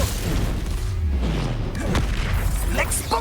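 Incendio fire spell cast in Hogwarts Legacy, a whooshing fiery burst over continuous game noise and rumbling booms from combat.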